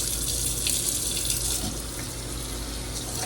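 Kitchen tap water pours steadily into a sink, filling it to rinse greens, a constant broadband splashing rush with no break and no speech over it.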